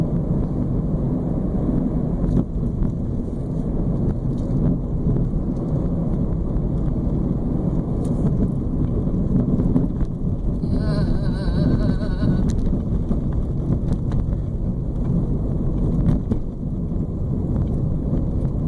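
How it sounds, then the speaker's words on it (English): Interior of a car driving over rough, potholed roads in the Bahamas, giving a steady loud low rumble and road roar with occasional bumps and rattles throughout. "you can hear probably the sounds of the bad roads that we drive on"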